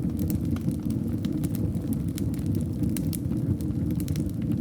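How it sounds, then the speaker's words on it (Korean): A wood fire burns in a fireplace beside a snowy Swiss mountain setting, giving a steady low roar with scattered sharp crackles and pops throughout, fairly close and alone. "불이 타는 소리와"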